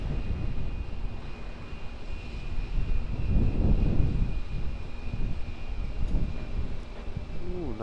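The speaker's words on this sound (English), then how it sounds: "Ooh, nice little landing there from the 737." Boeing 737 jet landing at Auckland Airport, a steady broad engine roar swelling toward the middle and easing off again, heard from a distance with wind-like noise throughout.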